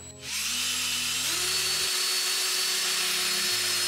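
A loud, steady whine of an electric drill spinning a broom handle chucked in it, its pitch rising slightly partway through, with no talking.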